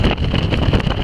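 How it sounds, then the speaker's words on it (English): Strong wind buffets the microphone on an exposed hilltop, a loud, continuous low roar with gusty swells and no speech. "Quite windy."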